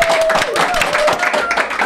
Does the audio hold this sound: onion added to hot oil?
no